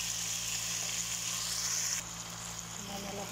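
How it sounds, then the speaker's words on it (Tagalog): Chicken liver and carrots sizzle and fry in a pan while being stirred, a steady close hiss that drops slightly partway with faint scraping, under a low background hum. "Mix natin yung chicken liver."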